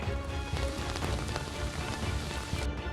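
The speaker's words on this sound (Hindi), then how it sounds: "रात से लेकर अब भी कई इलाकों में रुक रुक कर हो रही बारिश जारी है" Rain pours steadily onto the flooded streets of Delhi NCR, a dense, constant patter and hiss that is loud and close throughout, with no voices.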